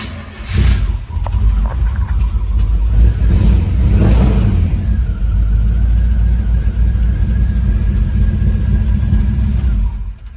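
A 1959 Chevy Apache truck engine runs loud and close, a low steady rumble with revs rising near the start and again around four seconds, then settling into a continuous idle.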